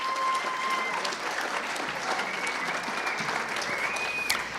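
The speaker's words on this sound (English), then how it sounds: "Give Julie a nice round of applause." An audience at a Jaycees ceremony applauds steadily, a dense even clapping that holds for several seconds and fades slightly at the end.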